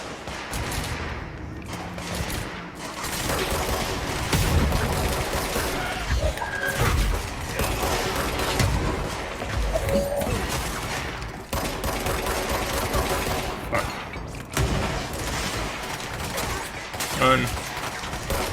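Gunfire in the video game Control: dense, rapid bursts of shots mixed with crashing, shattering impacts, continuous and loud for the whole stretch.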